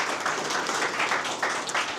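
Audience applause at a DevOps and AI meetup, a brief burst of many hands clapping in a dense, uneven patter from a crowd nearby.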